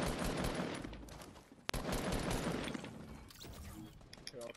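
Rapid bursts of gunfire in Fortnite, loud and dense for several seconds with one sharp crack standing out, then thinning out toward the end.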